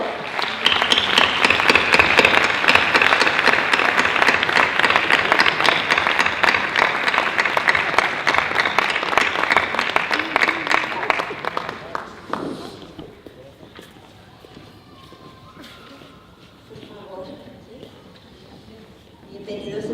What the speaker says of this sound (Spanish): Si queremos acoger a estas personas con un fuerte aplauso